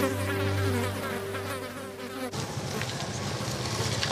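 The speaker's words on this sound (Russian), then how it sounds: "мухи на тебя налетают" Flies buzz around amid piles of garbage on a street in Pakistan, a steady close insect drone filling the first two seconds before giving way to a noisier outdoor wash where the buzzing continues faintly.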